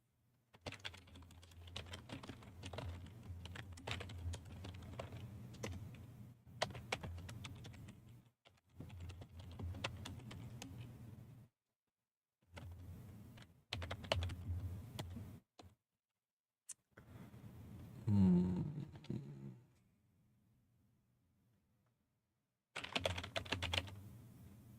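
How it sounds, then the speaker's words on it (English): Rapid typing on a loud computer keyboard, close and crisp, coming in several bursts of clattering keystrokes separated by short silent pauses. "my keyboard is probably super loud because, well, my microphone picks up everything in the world"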